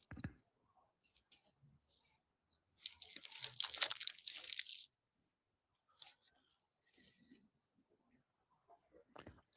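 Garlic butter fries from a South Side spot on 57 in Cicero crunch between the teeth in a short burst of crisp chewing, close to the mouth, with quiet pauses and brief rustles around it.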